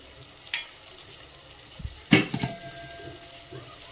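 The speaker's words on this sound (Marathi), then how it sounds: "बटाटा परतून झालाय तर त्यामध्ये टाकून घेऊया फरसबी" Finely diced potato and green beans sautéing in a pan, with a low sizzle and a few scattered clinks and scrapes as the vegetables are tossed, one louder clatter near the middle. No one speaks.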